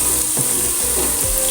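Spices for a daal tadka sizzle and crackle in hot oil, a loud, dense, continuous frying hiss close up, with a few soft clinks of stirring.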